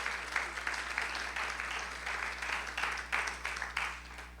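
A church congregation applauds together in a quiet, slightly distant burst of clapping with a faint rhythmic pulse, over a low steady hum in the room.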